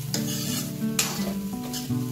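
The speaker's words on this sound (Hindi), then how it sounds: "गैस बंद करके इसे थोड़ा अच्छे से मिक्स कर देना" Goan batata poha of flattened rice and potato being stirred in a pan after the gas is turned off, a steady close scraping and tossing with faint sizzle underneath, continuous throughout.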